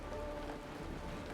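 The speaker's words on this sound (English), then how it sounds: "I hear some rain." Soft, steady rainfall in Honkai Star Rail patters on a surface, a continuous gentle hiss at low volume with no voices.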